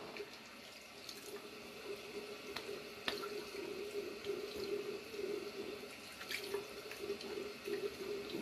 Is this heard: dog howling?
no